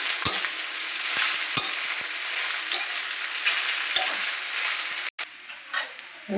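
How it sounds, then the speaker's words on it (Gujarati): A spoon stirs a sizzling tempering of spices in hot oil in a pan, steady frying hiss with scraping knocks of the spoon against the pan at irregular intervals, close and fairly loud, no talking. "વ્યવસ્થિત હલાવી નાખશું"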